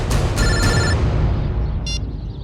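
Telephone ringing from an unknown number, a loud electronic ring tone in a short burst over a noisy, busy background.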